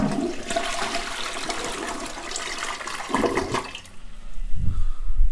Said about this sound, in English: Now, this is going to take 2 flushes to flush properly.